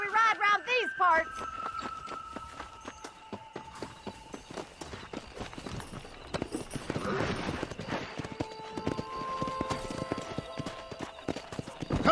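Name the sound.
horse hooves while riding in video game Red Dead Redemption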